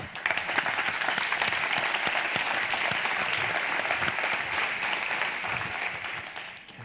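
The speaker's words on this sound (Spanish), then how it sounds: "Un aplauso." Audience applause welcoming the participants of a Forbes women's leadership panel discussion in Spain, steady and dense throughout before fading at the very end, with no talk over it.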